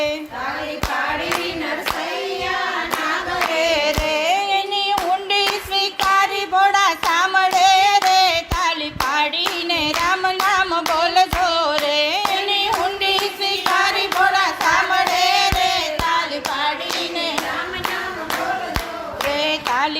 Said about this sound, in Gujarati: તાલી પાડીને રામ નામ બોલજો રે